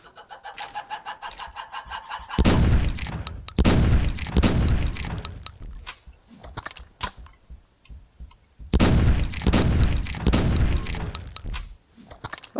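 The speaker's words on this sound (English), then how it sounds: "the Venom rifle actually got a chance to show off what it's capable of" Venom rifle fire in the Carnivores Fallen Kings hunting game comes as loud, sharp bursts that stand out from quieter ambience between them, with no speech.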